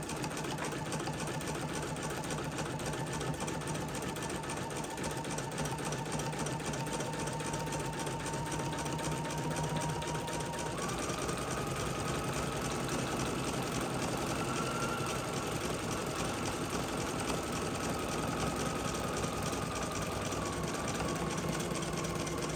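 Sewing machine stitching the final row of a satin embroidery stitch, a continuous rapid mechanical whir and chatter held steady throughout, close and even, with a faint whine that shifts pitch partway through.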